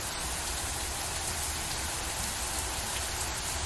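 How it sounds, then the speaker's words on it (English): Heavy rain pours onto concrete in a video game, a dense, even hiss that stays loud and constant throughout with no voices. "rain fell so heavy upon the concrete below"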